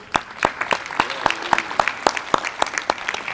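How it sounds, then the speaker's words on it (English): A small group claps for a man at a dance masterclass, with sharp, fairly loud individual hand claps in a steady irregular rhythm and brief voices mixed in. "Get a round of applause for David."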